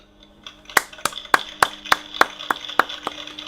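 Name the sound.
person clapping hands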